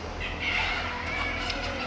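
Assorted chickens at a Kuwait animal auction, a busy mix of clucks and calls over steady crowd noise, fairly loud and continuous with no clear single voice.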